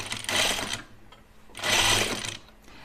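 A sewing machine stitching filling to an overhang piece in two close, loud bursts of rapid mechanical whirring, separated by a brief quieter pause, with no talking.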